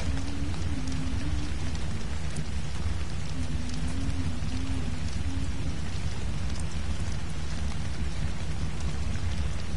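Steady video game rain pours down continuously, a dense, even hiss with low rumbling underneath and a faint wavering tone, loud and unbroken throughout.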